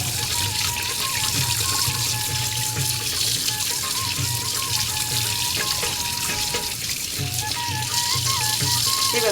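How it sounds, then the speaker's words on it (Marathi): A pressurised water jet hisses continuously while rinsing mud from freshly cleaned creek fish (boi and palu), a loud, steady spray with faint clatter underneath. "पाण्याचं प्रेशर मारल्यानंतर ह्याच्यामध्ये हे जे चिखल होतं ते निघालेलं आहे"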